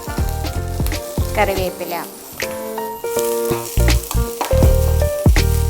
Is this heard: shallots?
yes